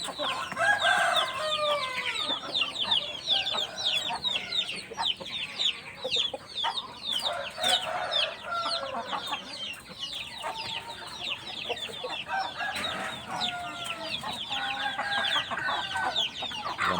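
Many hens cluck and squawk continuously close by, a dense, restless farmyard chorus with occasional crowing.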